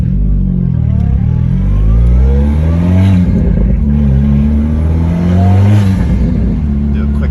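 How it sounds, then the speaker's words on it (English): An 11th-gen Honda Civic hatchback with a boosted engine and a loud aftermarket exhaust cruises around town, giving a steady, droning exhaust note that swells and eases slightly with throttle throughout. "The exhaust is a little too loud"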